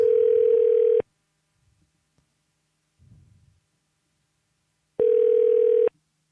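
Telephone ringback tone while calling a podcast guest, two long steady beeps about four seconds apart with near silence and a faint rustle between them.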